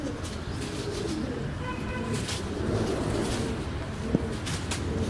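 Greek Toumbanos tumbler pigeons flying in a club flock outdoors, with soft low cooing and wing flutter running steadily through a busy open-air background, one short sharp knock near the end.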